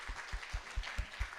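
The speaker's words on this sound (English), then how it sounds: "If you please give her a large round of applause." An audience at a film festival Q&A panel claps for filmmaker Crystal Kwok. The claps are evenly spaced and rhythmic, arriving about every quarter second at modest volume.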